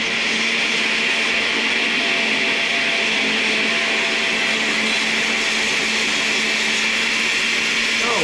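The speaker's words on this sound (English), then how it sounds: "this just needs to be blended for maybe about a minute and a half, 2 minutes" A blender blending pumpkin flan mixture whirs steadily throughout, a loud continuous motor drone with a grinding, churning texture and no pauses.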